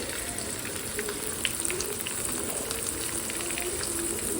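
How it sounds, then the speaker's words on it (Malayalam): Sardines frying in hot oil in a Kerala home kitchen, a continuous close sizzle with scattered pops and spatters at an even level throughout. "ഇങ്ങനെ ആദ്യമായിട്ടാണ് സ്വന്തമായിട്ട് ചാള വറുക്കാൻ പോകുന്നത്"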